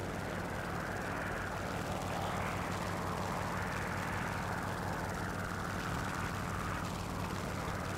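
A propeller aircraft engine drones steadily overhead during a War Thunder tank battle, a dense, continuous rumble with a slowly shifting pitch, loud and unbroken throughout with no talk.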